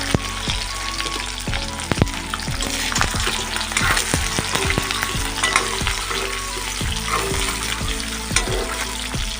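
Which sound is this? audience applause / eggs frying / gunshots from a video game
eggs frying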